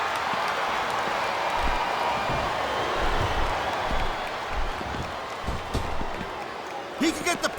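A wrestling arena crowd at a WWE tag team match roars steadily with cheers and applause, a dense continuous wash of noise under a commentator's voice, with a few sharper claps near the end.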